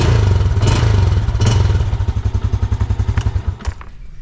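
A Yamaha Jupiter Z motorcycle engine runs close and loud, with a throaty revving burst that settles into a fast, even idle pulse before cutting out.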